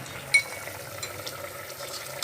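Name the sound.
aloo yakhni boiling on high flame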